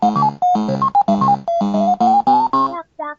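Pac-Man start-of-game intro jingle, a bright chiptune melody of quick staccato electronic notes bouncing up and down in a steady rhythm, loud and clear with no talking over it.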